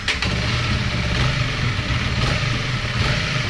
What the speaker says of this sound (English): we want that engine warmed up a few minutes so that it'll be prepared for the oil change